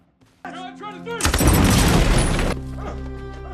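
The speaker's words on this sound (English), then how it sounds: "Cory is shooting from his hiding spot in the trees" Dense burst of rifle gunfire echoing through snowy trees in a tense film scene, loud and rapid, rising sharply after a short musical lead-in and dropping away into music.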